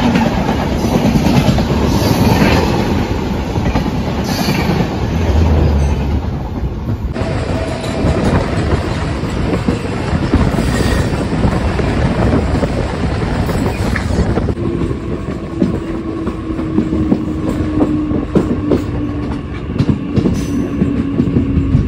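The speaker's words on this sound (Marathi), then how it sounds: "ही ट्रेन एकही स्टेशन मिस करत नाही सगळे स्टेशन घेत चालली आहे" A Konkan-route MEMU passenger train running at night from Panvel toward Roha rumbles along the rails, with a steady, loud, close clatter of wheels and carriage noise heard from inside throughout.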